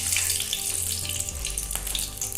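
Three bay leaves sizzle in hot oil in a heated pan, giving a loud, steady, close crackling hiss with no pauses.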